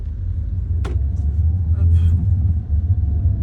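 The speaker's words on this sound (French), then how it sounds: "on va essayer de se prendre une petite ligne droite pour faire une légère accélération sur le véhicule" A Peugeot 308 Allure with a 1.6-litre 125 hp petrol engine accelerates, heard from inside as a low steady engine drone with a faint rising whine, and someone talks briefly over it.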